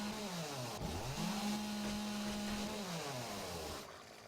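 Chainsaw from the survival game 7 Days to Die, a steady loud buzzing engine whose pitch rises and falls as it revs, running continuously throughout with no talk.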